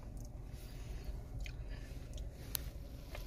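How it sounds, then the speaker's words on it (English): Someone chews an Arby's brown sugar bacon sandwich on sweet Hawaiian bread, with soft crunching bites of crispy bacon, close and fairly quiet over a low background rumble. "Then the nice crunch of the bacon, crispy."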